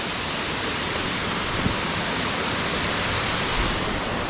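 Khlong Lan waterfall roars as a steady, dense wash of falling water and spray, loud and close, unbroken for the whole stretch with no voices.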